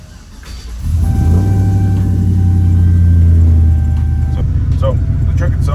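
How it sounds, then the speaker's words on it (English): A 2005 Chevrolet Silverado truck with long tube headers and no catalytic converters cranking and starting, then settling into a loud, steady low idle rumble close by for several seconds, ending with a few clicks. "So the truck itself, it doesn't sound super loud, I guess, when you start it up"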